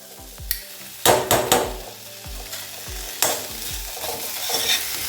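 Soaked, washed poppy seeds roasted in a kadhai on low heat for panjiri, with sharp spatula knocks and scrapes against the pan over a low sizzle, close, in irregular bursts, no talking.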